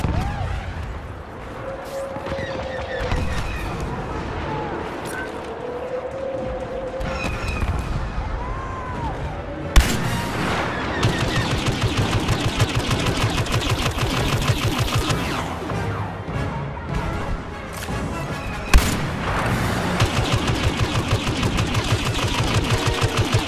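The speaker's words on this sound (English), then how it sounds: "Bombers are making their attack run." Bombers on an attack run in Star Wars Battlefront: engine whines and whooshes build into a loud, continuous barrage of blasts and rattling fire, with two sharp bangs standing out.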